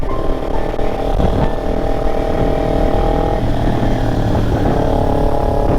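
A Kawasaki Ninja 300 motorcycle being ridden, its engine droning loud and steady with strong wind rush throughout, with no break in the sound.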